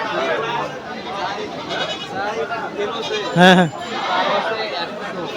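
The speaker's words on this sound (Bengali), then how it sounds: "হাইলন ছাগলও আছে বেশ কয়েকটা।" A goat at a rural goat market in Bangladesh lets out one loud, close bleat partway through, over continuous crowd chatter and nearby talking.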